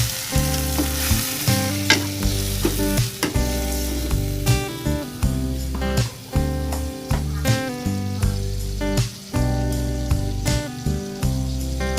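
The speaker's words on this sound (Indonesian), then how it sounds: "tumis bawang merah, masukkan gambas dengan bumbu-bumbu yang sudah dihaluskan tadi ya." Shallots and ridge gourd sauté with a ground spice paste in a hot pan, a loud, close sizzle broken by repeated scraping stirs, with no talking.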